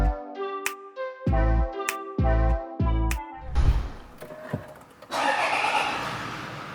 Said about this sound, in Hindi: इसकी आवाज से आपको आइडिया हो रहा होगा कि ये कोई आम प्राडो नहीं है, ये डीजल है